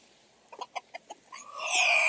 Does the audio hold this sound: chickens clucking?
yes